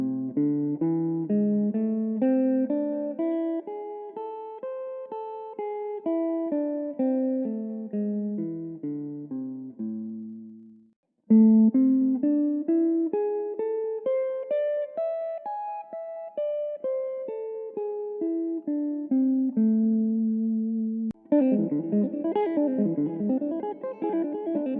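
A guitar runs up and down a minor pentatonic scale with a major seventh in place of the flat seventh, jazz rock fusion style, single notes in a steady ascending and descending line, briefly pausing before repeating and ending on a fuller strummed passage.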